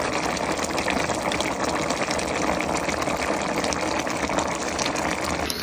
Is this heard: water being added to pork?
yes